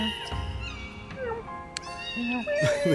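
A cat meows a few times in quick, wavering cries, with at least one voice that may be imitating the meow, mixed with people talking and some background noise close to the microphone.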